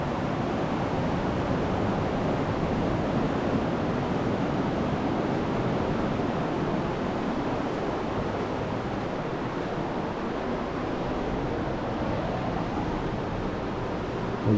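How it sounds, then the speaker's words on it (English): Ocean surf at Pismo Beach on an overcast day, a continuous broadband roar of breaking waves mixed with wind buffeting the microphone, steady and fairly loud with no talking. "Waves are coming for us."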